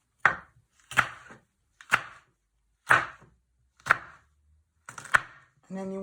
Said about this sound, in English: And you want to finely slice it.